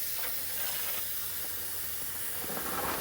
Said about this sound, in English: Got a leak somewhere.